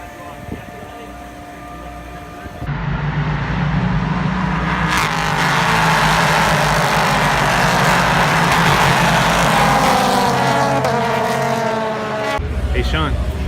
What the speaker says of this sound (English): Corvettes. Corvette racing. These things are absolutely insane.